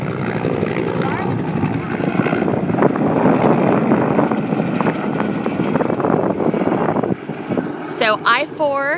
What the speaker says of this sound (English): so the helicopter just went over there and picked up the water?